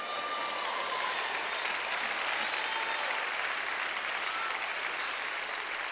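A church congregation applauding during a sermon, a steady wash of many hands clapping at once, full and sustained throughout with no talk over it.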